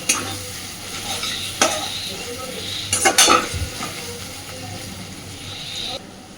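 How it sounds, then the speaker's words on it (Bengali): Fish fat frying in oil in a pan over a medium-low gas flame, a close steady sizzle broken by a few sharp clinks and scrapes of a utensil stirring against the metal pan. "পুরো মাছের তেলটা একদম লাল লাল করে সুন্দর করে ভেজে নিয়েছি"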